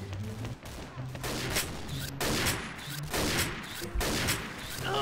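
In the shooting game XSHOT, an APC-800 sniper rifle fires sharp, loud shots at a steady pace of about one per second, each followed by a brief echoing tail.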